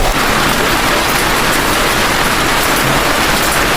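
Steady rain pours on Madeira as a dense, unbroken hiss, loud and even for the whole stretch with no other distinct sounds.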